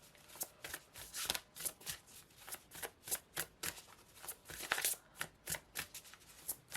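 Oracle cards are shuffled by hand in a quick, regular series of soft papery riffles and flicks, close and fairly quiet, with no talking.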